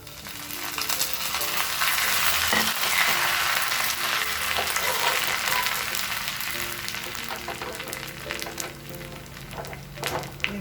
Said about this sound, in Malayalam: ഉള്ളി ചുമന്ന് വന്നിട്ടുണ്ട്. കറിവേപ്പില ചേർക്കാം.